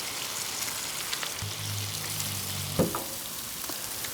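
Sausage patties fry on a Blackstone camp griddle set on low, a soft steady sizzle and crackle close by, with a brief low hum and a single clatter partway through; no one speaks.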